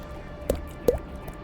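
A streamer's mouth imitating a water droplet, two crisp wet plinks about 0.4 s apart, close and isolated against a quiet background, with no talking.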